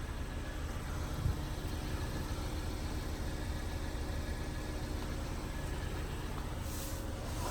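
The petrol turbo engine of an MG QS 7-seater runs at idle, giving a faint, even hum with a little background rumble and no talking.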